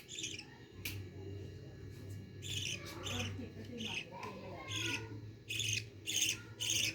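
Parrot chicks chirp faintly in a nest while the mother parrot feeds them, with scattered high calls over a low steady hum and no speech.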